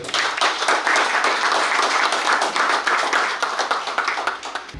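An audience at an entrepreneurship masterclass claps for a business promoter taking the stage, a loud, continuous crowd of hands beating quickly and unevenly without speech.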